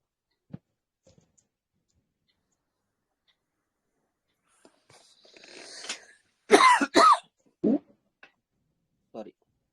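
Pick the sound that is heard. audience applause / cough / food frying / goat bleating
cough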